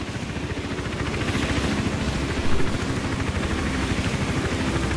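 Steady rotor thrum of a helicopter hovering in the video game Hitman Absolution, a constant loud wash of engine and blade noise lasting throughout with no speech.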